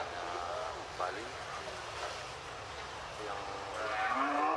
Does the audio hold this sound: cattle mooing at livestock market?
yes